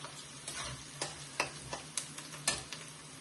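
Onions stirred as they fry in a pan, quiet soft sizzle punctuated by about eight sharp spatula scrapes and taps in an uneven rhythm.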